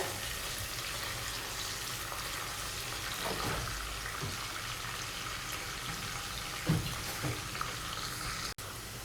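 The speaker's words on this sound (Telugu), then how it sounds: "అన్నీ వేసిన తర్వాత ఇవి గోల్డ్ కలర్ వచ్చేంత వరకు ఫ్రై చేసుకోవాలండి" Onion, garlic and curry leaves fry in tempering oil with a soft, steady sizzle, joined by occasional louder spatters and stirring clinks close by.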